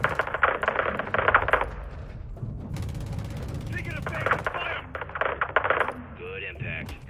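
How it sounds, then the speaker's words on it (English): Gunfire in the Modern Warfare 2 campaign comes as repeated clusters of rapid shots with metallic rattling, mixed with game effects and voices throughout. "We're taking fire from the south by the school."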